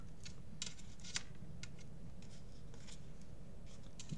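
Small scissors snip thread while binding junk journal booklets: a quick run of light, crisp clicks, close and quiet over a soft background hiss.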